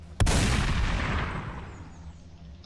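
A single cannon blast in a ragdoll physics game, one sharp loud boom that rumbles and fades over a couple of seconds.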